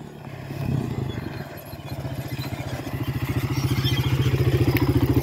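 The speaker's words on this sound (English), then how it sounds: "She's running the guts of all that four-wheeler." Four-wheeler ATV engine revving hard at a drag race, its loud, rhythmic engine pulse climbing steadily in pitch and volume as it pulls away, close and alone.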